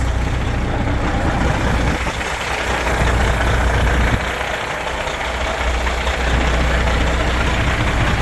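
A semi truck's diesel engine idles steadily during a pre-purchase inspection, a continuous loud low rumble that stays constant throughout while the air system builds pressure.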